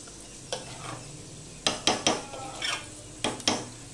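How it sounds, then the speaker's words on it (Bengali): Potatoes and carrots fry in a pan for a Bengali winter khichuri, heard as a soft sizzle under a run of sharp metal clatters and scrapes of stirring, loud and close, with no talk. "ওদিকে আলু গাজরটা আমার ভাজা হচ্ছে।"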